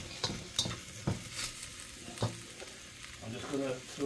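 Bok choy with garlic and a few drops of sesame oil stir-frying in a pan, with a quiet sizzle broken by intermittent scraping and clacking strokes of a utensil, and no voices.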